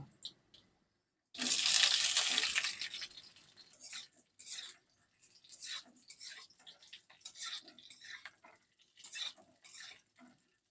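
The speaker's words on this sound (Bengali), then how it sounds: "এবারে ভেজে রাখা আলুগুলো এর মধ্যে দিয়ে দেব" Fried potatoes drop into a pan of spice-tempered oil with a loud sizzling burst, followed by intermittent scraping and clinking as a utensil stirs them against the pan.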